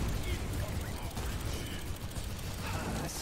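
Rapid mech gunfire from D.Va in Overwatch, a steady mechanical rattle of shots that runs dense and continuous under game noise, with a voice talking over it.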